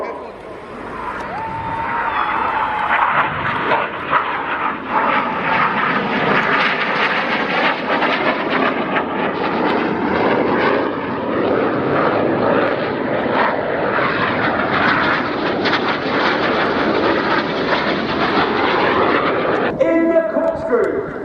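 Red Arrows synchro pair jets performing a double roll at the Royal International Air Tattoo air show, a loud, sustained roar of jet engines that swells and holds steady for about twenty seconds before easing off.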